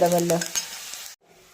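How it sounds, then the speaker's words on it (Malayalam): Moringa leaves sautéed in a pan for a lentil curry, loud close stirring and sizzling with scraping strokes, then the sound cuts off abruptly and a faint quieter sizzle resumes. "ഇപ്പോഴേ ഈ മുരിങ്ങ ഇലയിട്ട് വഴറ്റിയെടുക്കാം"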